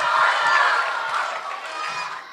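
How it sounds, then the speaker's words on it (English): Children and a school crowd cheering and whooping after contestants finish at a school chapel event, a loud, dense, steady roar of young voices with scattered shouts, easing slightly toward the end. "Let's give them a big round of applause."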